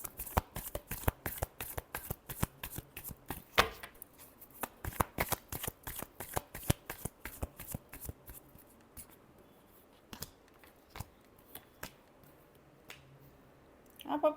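Playing cards are shuffled repeatedly during a tarot-style reading: rapid riffling and snapping bursts in quick rhythm, a short pause, then more sporadic card slaps and softer handling, close and fairly quiet, with no voice.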